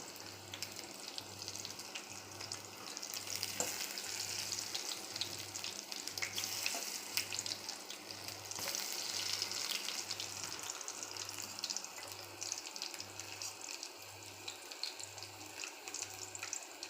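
Gram flour bhajji (besan pakoda) frying in hot oil, a steady close crackling sizzle with fine bubbling that holds evenly throughout, a faint rhythmic low hum pulsing beneath it and no voices.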